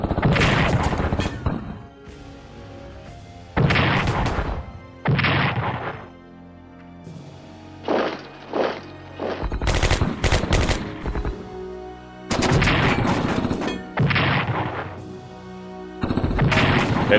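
Artillery fire and bombing in the Strategic Command WW2 Pacific war game, loud repeated bursts of booming impacts and crashes separated by short quieter gaps.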